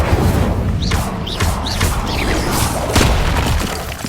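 Incendio fire spell cast repeatedly in Hogwarts Legacy, with loud booming bursts and crackling whooshes recurring every half second or so over dense game sound.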